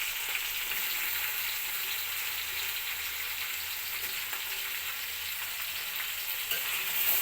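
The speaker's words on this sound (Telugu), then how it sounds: "వంకాయలు బాగా ఫ్రై కావాలండి." Eggplant and onion frying in oil in a pan over low heat make a continuous, soft, even sizzle that holds steady throughout with no voices over it.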